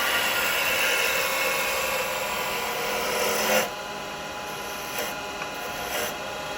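A spindle gouge cuts spinning wood on a lathe, producing a close, continuous rasping scrape for about three and a half seconds. It then drops away to quieter, intermittent light touches.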